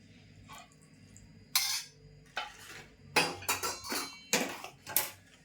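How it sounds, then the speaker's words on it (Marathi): Hot ghee poured into besan flour and stirred with a metal spoon, quiet at first, then a run of sharp clinks and scrapes against the vessel. "आता हे तूप तापलं आहे आता मी हे पिठात ना असं ओतून घेणार"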